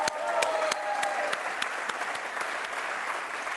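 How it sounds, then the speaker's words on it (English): An audience claps steadily in sustained applause, dense and fairly close, with a few sharp individual claps standing out. "can we get a big round of applause for Lisa Millett here?"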